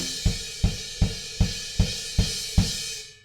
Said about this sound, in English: all that I would play is just kick drums and crash cymbals playing quarter notes